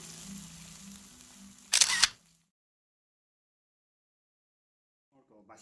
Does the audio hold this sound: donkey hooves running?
no